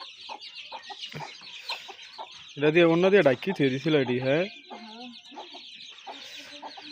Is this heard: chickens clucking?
yes